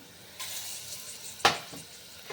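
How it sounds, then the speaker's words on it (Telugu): Ginger garlic paste hits a hot pan and sizzles faintly in a few short bursts, with one sharper hiss and stir noise in the middle before the sizzle settles down. "కొద్దిగా అల్లం వెల్లుల్లి పేస్ట్ పచ్చివాసన పోయేంత వరకు వేసుకోవాలి."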